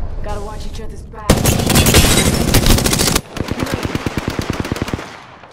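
Loud, close video game gunfire: a dense burst of automatic shots, then a second stretch of evenly spaced rapid rounds, following a short lead-in of voice-like sound.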